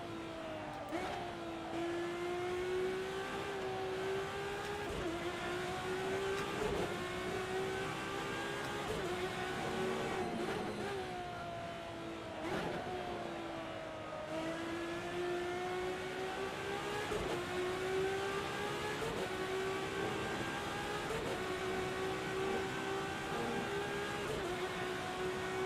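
Race car engine in the Assetto Corsa video game during a ranked online race, a continuous loud whining drone that rises and falls with shifts and throttle changes throughout, no talk over it.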